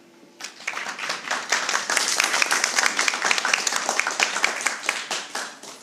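An audience claps for local literary workshops at an international festival event, a burst of applause that rises quickly and holds steady and fairly close, with dense overlapping hand claps throughout.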